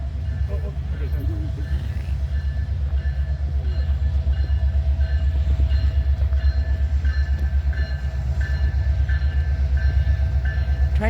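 The CP Holiday Train rolls past at Sicamous with a loud, heavy rumble and steady rail clatter, and a horn rings out in repeated tones above it. Bystanders talk nearby.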